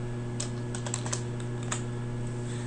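Rapid typing on a computer keyboard while entering R code, a scatter of light close key clicks in irregular bursts over a steady low electrical hum.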